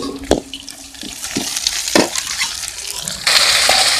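Onions with salt and chilli sizzle and crackle in a pan while making Tamil pulicha keerai kadaiyal, with sharp stirring scrapes and clacks throughout, the frying hiss growing louder and denser toward the end.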